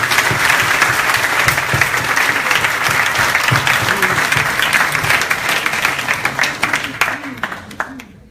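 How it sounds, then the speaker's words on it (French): Audience applauding loudly and steadily at a meeting where the partners from MLS Québec are thanked, with a few voices under the clapping before it thins out and fades in the last seconds. "On peut les applaudir bien fort"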